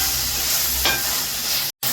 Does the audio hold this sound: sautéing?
yes